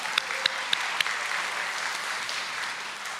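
Applause at a committee meeting: a thin, steady patter of clapping from a modest group, a few sharper individual claps standing out early, then settling into an even, moderately distant wash.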